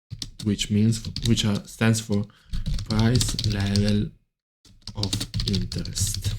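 Rapid computer keyboard typing runs beneath someone speaking almost continuously, with a short gap of quiet near the end before talk and clicks resume.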